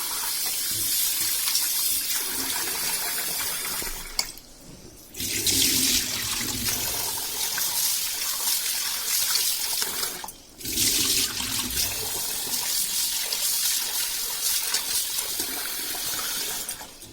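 Water pours steadily from a tap while rice is washed, broken by two short pauses where the flow stops and then resumes, loud and close.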